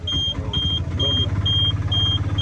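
Auto-rickshaw engine running steadily during a ride in Akkalkot on the way to the bus stand, a loud low drone close by, with a repeating high beep about every half second and a voice briefly heard.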